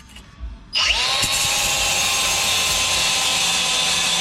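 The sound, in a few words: grinding pad cleaning up truck rear crossmember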